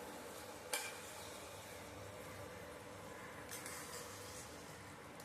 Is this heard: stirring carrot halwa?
yes